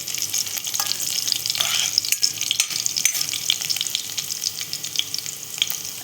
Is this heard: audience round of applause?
no